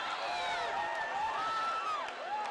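A packed UFC 34 arena crowd roars and cheers continuously, with shrill whistles and whoops rising over the dense din.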